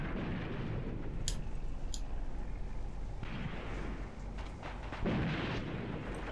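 Artillery fire in the Graviteam Tactics war game, with sharp cannon reports around the first and second seconds, then heavy rumbling bursts later over a steady low roar of battle noise.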